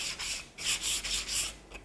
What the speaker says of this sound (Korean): 위에서 아래로 결 방향만 지키셔서 사포질 하시면 되고요